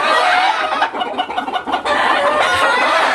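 Chickens cluck and a rooster crows on a farm where the birds are being returned after a typhoon, a dense, loud, continuous flock chorus with overlapping calls and no pauses.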